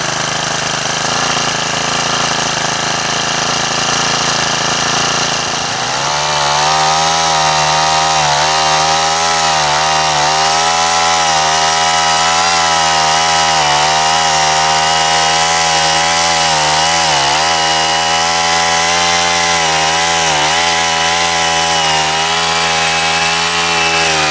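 A motorized garden tiller churning soil to prepare ground for planting potatoes, a loud, continuous engine drone that starts up after a few seconds and runs steadily with small fluctuations.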